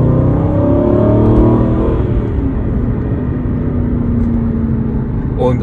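An Aston Martin Vantage N430 V8 accelerates on the road, its engine note loud and continuous with rising, layered harmonics that hold steady through the whole stretch.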